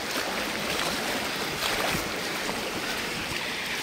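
Rushing waterfall water roars steadily and loudly down from Korigad fort near Lonavala in the rainy season, a continuous broadband wash of a fast-flowing stream with no pauses.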